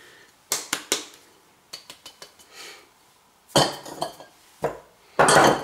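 Fleur de sel and flour being mixed in a bowl for palet breton biscuits, with sharp scattered clinks and scrapes of utensil against the bowl coming in irregular bursts, close by, with no talk.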